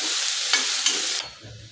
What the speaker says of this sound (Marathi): कांदा हलकासा गुलाबी कलर येईपर्यंत परतून घ्यायचा आहे